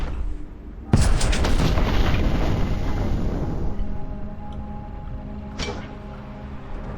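Gunfire and a heavy explosion in the Warhammer 40k Boltgun shooter game: a loud booming blast near the one-second mark rolls into a long rumbling decay, followed by another sharp shot near the end.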